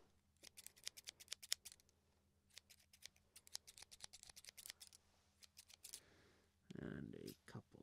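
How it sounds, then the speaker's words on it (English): ASMR scissor snips repeat close to the mic in quick, irregular crisp cuts. Near the end they give way to a brief rustling noise. "A couple more snips here."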